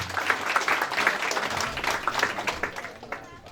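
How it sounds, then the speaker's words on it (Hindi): Audience applause at a gathering, a lively burst of many hands clapping with dense irregular claps that fade slightly toward the end. "हम क्यों नहीं सभी लोग मिलकर एक दूसरे के लिए ताली बजाकर धन्यवाद दें।"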